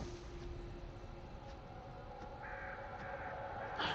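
Crow cawing in the horror game The Dark Pictures Anthology: House of Ashes, a few faint caws set against a steady dark ambient drone, with a brief brighter burst near the end.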